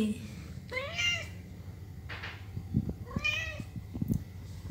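Pet cats meow indoors, with two clear rising calls and a softer one between them, all close and loud over a low background hum.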